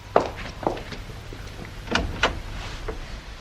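A conservatory door in a BBC radio thriller opens with a few soft thunks and a short scrape, mixed with light footsteps moving through the room, all fairly close and quiet with no talking.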